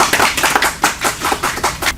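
Audience applause for poetry reader Farzana Afzal at a poetry recital: dense, steady clapping from a crowd, fairly loud and close, with no voices over it.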